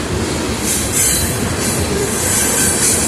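A freight train passing close by at speed, a loud continuous roar of rolling wagons with rumbling wheels and high metallic squeal, no voices.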